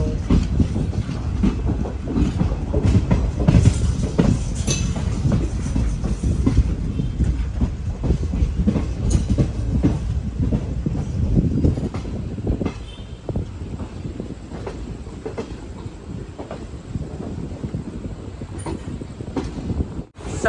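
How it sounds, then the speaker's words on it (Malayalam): The Rajya Rani Express rolls into Vaniyambalam railway station with a loud, rumbling roar and rhythmic wheel clatter, close by at first and then easing off as it slows. "വാണിയമ്പലം റെയിൽവേ സ്റ്റേഷനിലേക്ക് ഇതാ നമ്മുടെ ട്രെയിൻ എത്തിക്കൊണ്ടിരിക്കുകയാണ്"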